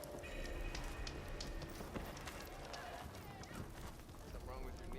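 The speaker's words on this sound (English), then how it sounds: "Rain's letting up." Rain pattering steadily on the ground in the video game Horizon Forbidden West, mixed with footsteps and other game sounds, fairly loud and continuous throughout.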